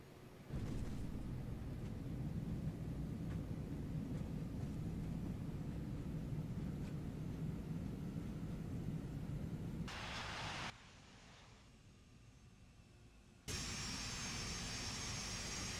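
Captain Sim 767 jet engines at full reverse thrust in a flight simulator game roar as a steady, dense low rumble, then cut abruptly to quieter hiss before a brighter noise returns.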